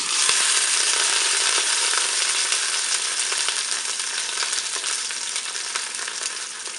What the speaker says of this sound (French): Allez, mon huile est chaude. Je vais pouvoir faire dorer mon rôti.